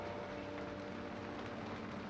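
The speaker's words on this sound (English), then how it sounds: "Dude, hey, it's raining." Steady rain falling outdoors, a soft continuous hiss of drops spread evenly across the whole stretch with a faint low hum beneath and no voices.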